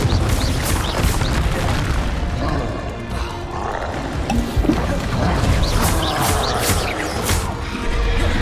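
A Confringo fire blast spell in Hogwarts Legacy lands in a run of loud booming bursts with crackling impacts over rumbling action noise. The blasts repeat irregularly, ending in sharp transient hits near the end.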